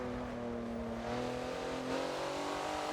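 A race car engine drones and accelerates on the Rio circuit in the Forza video game, a loud, sustained, steady engine tone that climbs slightly in pitch, with no talking.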